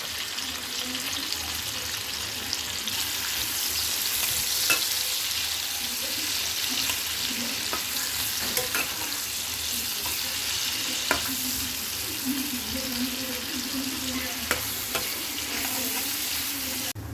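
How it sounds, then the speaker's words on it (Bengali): Onions sizzle in hot oil left over from frying rohu fish, a steady close hiss that runs the whole time, with a few soft clicks of stirring and no voices. "মাছ ভাজার তেলেতেই আমি এবার পেঁয়াজগুলো দিয়ে দিলাম"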